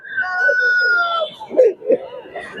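A rooster crows at a busy chicken market, a long drawn-out call near at hand, followed by short squawks and clucks from other fowl, with people talking nearby.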